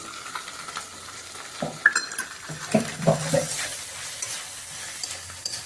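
Onion is added to bhetki fish bones frying in a pan, giving a faint steady sizzle with a few scattered spatula clinks and scrapes, and no voices.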